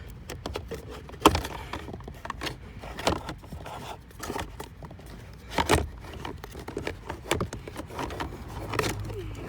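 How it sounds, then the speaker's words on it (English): A Mercedes W169/W245 blower motor is pushed and wiggled back into its plastic housing, giving irregular scraping, knocking and clicking plastic sounds at close range, with sharper thumps now and then. "But I'm just gonna get the motor in there."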